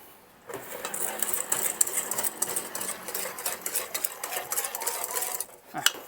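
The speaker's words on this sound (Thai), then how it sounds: "ขั้นตอนแรกเราจะเอาผงโกโก้ผสมกับแป้งก่อนนะครับ เทให้เข้ากันเลยนะครับ" Cocoa powder is stirred into flour for cocoa butter cookies. A utensil scrapes and clicks quickly and repeatedly against a bowl, close by and fairly loud, with no talking.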